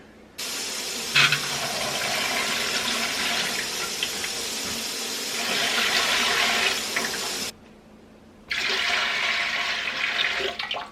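Water gushing from a tap into a Presto 23-quart pressure canner, a strong steady rush that stops, then resumes for a second pour.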